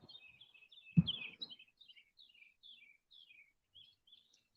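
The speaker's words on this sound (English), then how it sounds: "you hear them damn birds." Small birds chirp in quick, high, repeated notes, fairly faint, with a brief low thump near the start.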